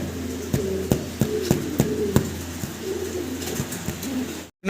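English Carrier Homer pigeons coo softly and repeatedly close by, their low throaty calls mixed with sharp taps and clicks.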